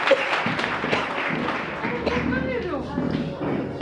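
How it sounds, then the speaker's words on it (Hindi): Applause from a seated audience at a Hindi sales and business-plan meeting breaks out under a speaking voice, with scattered claps and thumps running beneath the talk. "एक बार ताली बजा दीजिए जोरदार"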